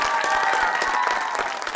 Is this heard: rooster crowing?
no